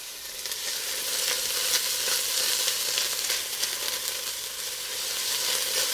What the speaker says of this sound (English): We're going to start browning these little onions, getting us some flavor